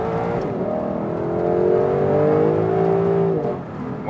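A Lexus LC 500 convertible accelerates hard in sports mode on a wet road. The engine note is loud and rising, climbing steadily through the revs for a few seconds before dropping off at a gear change, heard close from inside the car.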